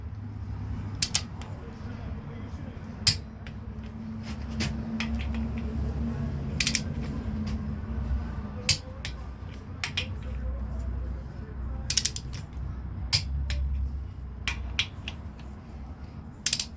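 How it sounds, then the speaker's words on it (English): Torque ratchet clicking while pump bolts are tightened to 18 pounds, a scattering of sharp, close clicks at irregular intervals over a steady low rumble. "You'll hear the click in the ratchet."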